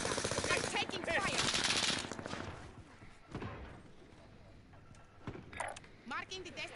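Rapid automatic gunfire in Call of Duty on Rebirth Island, loud bursts in the first two seconds and sporadic shots after, with players talking over the action.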